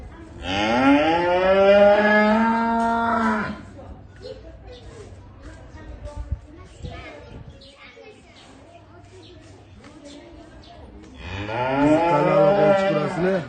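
A seven-month-old purebred Simmental bull calf gives two long, loud, close moos, one at the start and one at the end, with quieter voices and rustling in the gap between them.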